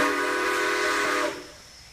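Steam locomotive whistle in the railroad game High Iron, a loud sustained tonal blast with hiss that cuts off sharply after about a second and a quarter, leaving a faint fading tail.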